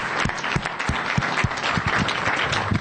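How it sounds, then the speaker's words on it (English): An audience at a Glendale community meeting on winter weather preparation applauds, a steady dense wash of many hands clapping from start to finish. "So give them a big round of applause."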